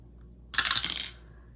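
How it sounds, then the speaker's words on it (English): A four-sided die tumbling down a dice tower gives a sharp clattering rattle for about half a second before settling, close and fairly loud against a quiet room. "This is a four-sided die"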